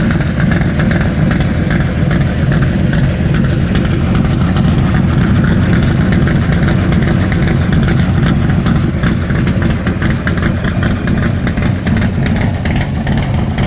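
A dirty, winter-worn car engine with new stainless side pipes and slightly fouled plugs runs continuously nearby, a loud, rough, throbbing exhaust rumble holding steady without pause.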